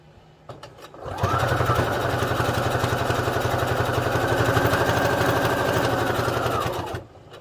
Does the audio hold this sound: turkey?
no